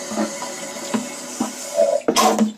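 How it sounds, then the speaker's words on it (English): Water trickles steadily into a toilet bowl through a leak at the top, a soft continuous hiss broken by a few close knocks and a louder splashing burst near the end. "That's where the water's leaking."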